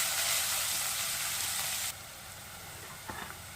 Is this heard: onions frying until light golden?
yes